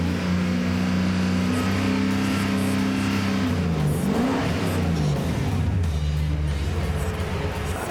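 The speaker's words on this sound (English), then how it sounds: "Just then under a bit of high load, low RPM, the engine started misfiring" A car engine labours under high load at low RPM while misfiring, giving a loud, steady drone with shifting pitch and uneven roughness, heard close from inside the car with no talk.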